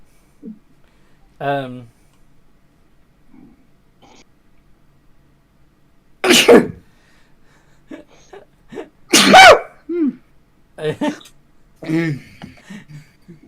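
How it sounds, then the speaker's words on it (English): Several sneezes from a player at a tabletop role-playing game session, spaced apart with quiet gaps, a couple of them sharp and loud amid faint vocal sounds. "I just got sneezy"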